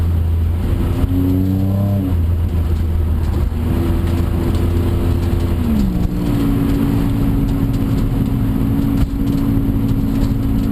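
Inside a car driving down a road in Mexico, the engine holds a loud, steady drone and its pitch climbs through the gears as the car speeds up, with tyre and road noise underneath.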